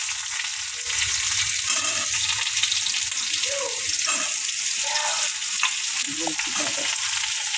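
Ridge gourd fries in hot oil with dried chillies and nigella seeds, giving a loud, even sizzle that swells after a short pause, with faint utensil knocks underneath.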